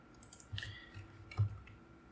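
Computer mouse clicks while rigging a character in Blender 2.8: two soft, close clicks about a second apart over quiet room noise, with no talking.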